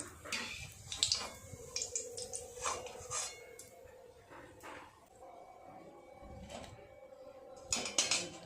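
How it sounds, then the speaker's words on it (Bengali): Fried malpua lifted from the pan and dropped into sugar syrup, with soft wet splashes, drips and light clatters of utensils, close and fairly quiet with gaps between sounds. "তুলে নিয়ে আমি রসের মধ্যে দিয়ে দেব।"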